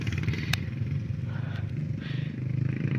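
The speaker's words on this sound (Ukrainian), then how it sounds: "Мотоциклісти по лісу." Motorcycle engines buzz and rev nearby in a forest near Kyiv, a steady rough drone with rising and falling throttle and a brief sharp clatter.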